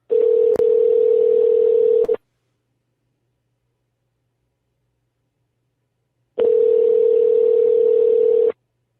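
A telephone ringback tone on a call: two long steady rings about two seconds each, separated by a roughly four-second silent gap, loud and clear with no talking.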